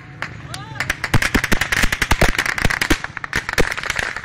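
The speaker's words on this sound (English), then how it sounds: "Bullets crack and whistle overhead." Gunfire at a street protest in the Syrian town of Jebel el-Zawiya, a dense burst of sharp cracks and pops, several whistling overhead, scattered then clustering loud and close, with shouting voices mixed in among the shots.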